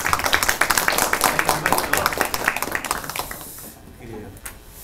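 A lecture audience applauds to welcome a guest at a humanities talk, with dense, energetic clapping that fades after about three seconds into quiet room sound and a few faint voices.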